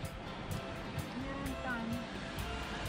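Sea waves wash steadily as a boat sets off across the sea off Cyprus, a constant broadband rush with faint tonal hum.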